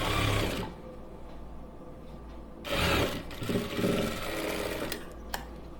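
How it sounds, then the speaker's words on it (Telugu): An electric sewing machine stitches a blouse seam in short bursts, whirring loudly at the start, pausing, then running again in close, rhythmic stretches. "ఇక్కడ నుంచి మనం కింద పార్ట్ వరకు కూడా రెండింటిని సమానంగా పట్టుకుంటూ కుట్టు వేసేసుకోవడమే"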